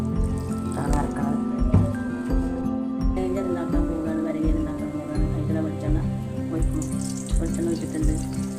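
Water pouring and trickling into a grinder of chopped tapioca with drips and splashes, accompanied by clinking kitchen sounds and a voice speaking.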